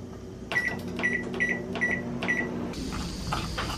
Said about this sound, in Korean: 전자레인지에 2분간 돌리면 단단한 껍질을 자르기 쉽다